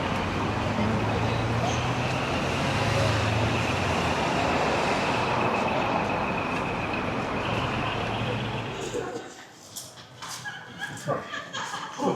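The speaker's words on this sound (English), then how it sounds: "This is a really busy road." Loud, steady roar of heavy traffic on a busy road in Japan rumbles without pause for several seconds, then drops away abruptly to quieter street sounds with faint clatter.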